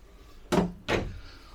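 Two quick knocks a short way apart, a drawer opening and bumping in the bathroom of a 2021 Grand Design Imagine XLS 22RBE travel trailer, close and fairly loud against a quiet room.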